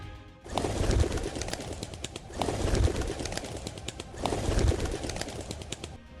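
Pigeons coo in repeated low, soft rolling calls over a dense background of bird chatter at a pigeon feeding ground in Mumbai.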